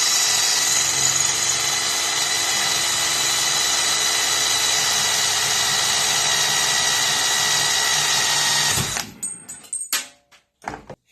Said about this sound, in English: we're going to have to drill out this rivet here on the bottom